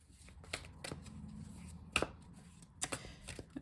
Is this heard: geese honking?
no